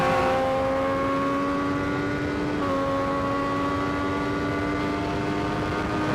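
A motorcycle engine holds on throttle at NJMP racetrack, a loud, steady, high-pitched drone with one brief dip and shift in pitch partway through.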